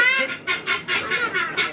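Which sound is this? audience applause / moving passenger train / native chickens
native chickens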